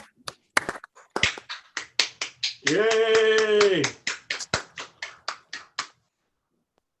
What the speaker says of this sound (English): please give all of our honorees a big round of applause for their service and dedication to this community